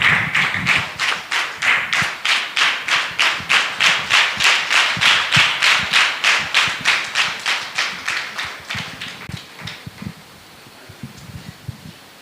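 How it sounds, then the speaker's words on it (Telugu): A church audience at a 29th anniversary service claps in a steady, even rhythm to welcome a speaker. The beats are loud and close together, then fade into scattered, quieter claps and taps. "వారు వస్తున్న చప్పట్లు కొట్టి వారిని ఆహ్వానిద్దాం."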